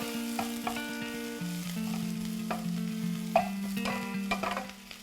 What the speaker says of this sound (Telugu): ఫ్రై చేద్దాం.